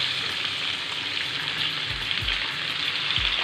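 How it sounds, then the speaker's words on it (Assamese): Pork fries in a pan with a dense, continuous sizzle, close and steady, a few soft stirring knocks near the end and no talking. "মোৰ 10 মিনিট টাইম ফ্ৰাই কৰা হৈ গ'ল।"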